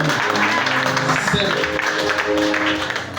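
A church congregation applauds steadily through the whole moment, a dense, continuous clapping with voices mixed in and a preacher talking over it.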